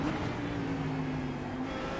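Race car engine in iRacing, Lamborghini against German cars on the Nürburgring Nordschleife, droning steadily and fairly loud with a sustained tonal whine throughout, a car running close alongside.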